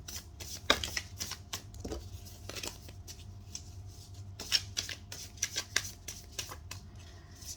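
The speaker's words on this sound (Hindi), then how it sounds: "तो जब तक मैं कार्ड शफल कर रही हूँ" Tarot cards being shuffled by hand, giving soft riffling and flicking bursts at an uneven rhythm over a faint steady background hum, close and quiet, with no one speaking.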